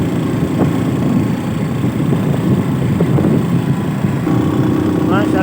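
Motorbike engines idling and revving during a bike rally in Gujar Khan, a steady rumbling drone running throughout, with people talking over it.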